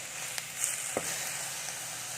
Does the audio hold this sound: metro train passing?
no